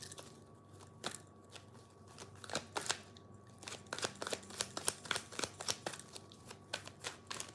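Tarot cards are shuffled by hand close up, a quiet run of crisp riffling snaps and soft slaps that comes in irregular bursts and grows busier toward the end.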